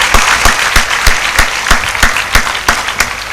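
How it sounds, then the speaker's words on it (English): Applause for a professor at an engineering college gold medal function, close and loud, with sharp rhythmic clap peaks repeating roughly every third of a second over a softer crowd of clapping. "let us give a very big warming applause"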